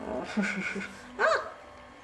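A Dogo Argentino puppy whimpers close by: soft whines early on, then one brief, rising high whine, with a little background noise.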